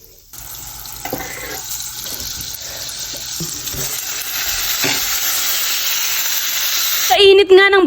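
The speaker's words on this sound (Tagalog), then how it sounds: "Sa init nga ng butter, saka na namin nilagay ang mga hotdog." Hotdogs fry in hot butter in a pan, giving a steady sizzle with stirring and scraping sounds, and a louder burst near the end.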